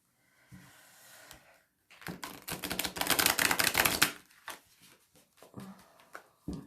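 Tarot cards shuffled by hand in a few quick riffling bursts, close and soft, with a longer dense flurry in the middle and light handling noises around it.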